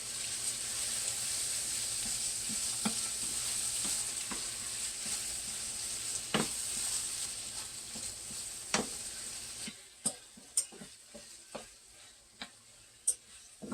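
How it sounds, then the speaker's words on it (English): An Italian bake stirring and sizzling in a small roasting pan, a steady frying hiss with sharp scraping clicks of the spoon, the hiss dropping away near the end while the spoon taps keep going, close and alone. "I'm gonna give this a little stir here."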